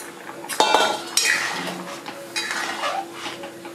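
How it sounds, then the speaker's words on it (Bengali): Bottle gourd pieces going into a cooking pot for dal, with sharp metallic clanks of a spoon against the pot followed by wet tumbling and shuffling as the pieces are tipped in and moved around; no speech. "তো এবার আমি লাউগুলো দিয়ে দিচ্ছি।"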